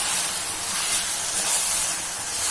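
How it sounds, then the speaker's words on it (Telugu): Gongura (sorrel leaves), freshly washed, frying in oil in a clay pot, giving a steady, dense hiss of sizzling close by with no talk. "అదే నూనెలో గోంగూర వేయించుకుందాం"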